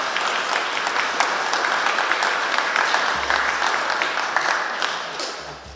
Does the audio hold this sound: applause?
yes